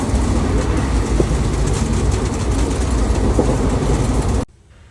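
A passenger train arrives at a station in the evening, its loud, steady rumble and rattle heard up close until the sound cuts off abruptly near the end.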